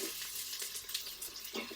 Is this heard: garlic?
yes